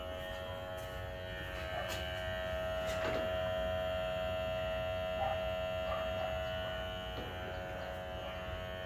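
An Ancel S3000 smoke machine runs with the needle off, pushing plain air through a vehicle's evap system. It makes a steady, close electric hum and buzz that holds level throughout, with no talking.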